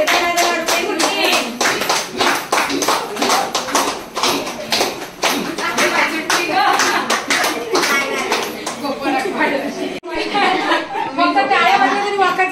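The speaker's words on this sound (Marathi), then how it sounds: "फक्त टाळ्या वाजल्या" Hands clap in a quick, rhythmic beat during a fugdi dance at a Ganpati gathering, close and loud, with singing voices and chatter running alongside.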